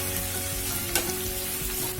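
Chopped large tomatoes tipped into frying onions in a pan for mushroom matar masala, giving a steady, dense sizzle throughout, with one brief clatter in the middle.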